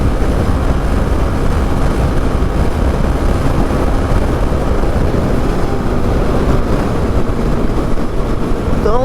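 A Honda Twister motorcycle rides along making a strange noise, heard as a continuous loud, rumbling road and engine drone with wind rush, steady from start to finish with no talk.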